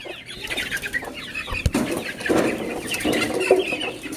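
Chickens clucking in a coop as a rooster and a hen are caught for moving, busy close clucks and brief scuffling with a sharp knock, fairly loud and without speech.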